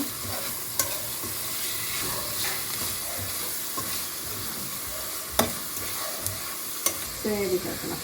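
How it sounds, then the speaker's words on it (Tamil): Tomatoes with salt sautéing in a pan, a continuous sizzle with occasional sharp scrapes and knocks of a spoon stirring against the metal, close and steady, with no one talking. "போட்டு நல்லா வதக்கி விட்டுருங்க."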